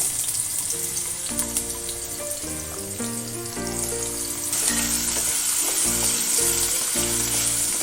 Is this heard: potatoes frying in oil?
yes